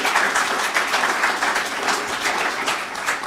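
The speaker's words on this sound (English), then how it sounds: "I think they deserve a round of applause." An audience at a keynote address gives a steady, dense round of applause, many hands clapping at once with an even, sustained intensity and no voices.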